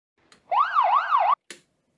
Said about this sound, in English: There's our siren, right?